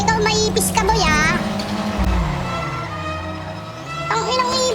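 Cars rush past with engine roar and rising and falling whine, loud and close over a couple of passes. People talk over the traffic noise.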